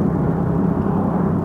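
A steady, low exhaust drone from a 1939 Wolseley Brooklands Special rumbles continuously at an even level, deep and throaty with no pauses.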